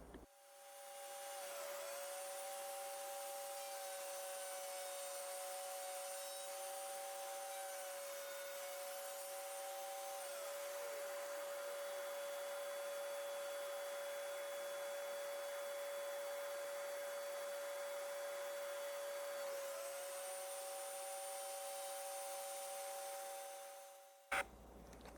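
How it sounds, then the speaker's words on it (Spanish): A vacuum extracts sawdust from a router cut in wood while a drawer pull is shaped for a bedside table. A steady, quiet whining motor hum ramps up, holds, dips and ends with a brief click. "la aspiradora limpia todo el acerrín que genera el corte del fresado"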